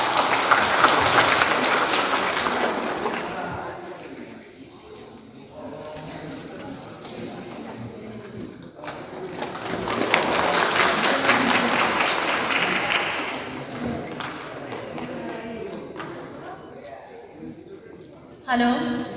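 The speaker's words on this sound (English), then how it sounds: "Big round of applause, please." Audience at a solo dance championship clapping steadily throughout, a broad crowd applause that swells and fades slightly in the middle, with a voice faintly mixed in near the start.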